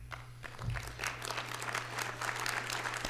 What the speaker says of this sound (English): you already gave yourself a round of applause